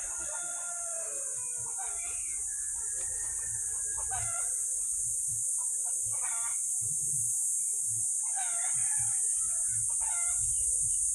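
Many chickens cluck and roosters crow repeatedly across an outdoor yard, the calls overlapping in bursts over a steady high hiss, with some quiet voices in the background.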